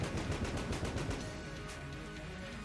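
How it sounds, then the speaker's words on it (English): In Enter the Gungeon, a plunger and duct tape beam gun fires fists in a rapid, loud burst of repeated shots that thins out into a quieter rattle after about a second and a half, with no talking. "That's why I'm able to fire so many fists so quickly."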